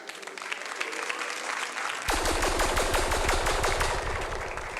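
Audience applause at a stand-up comedy show, starting as a light patter of claps and swelling abruptly into loud, dense clapping from a full crowd that carries on steadily to the end.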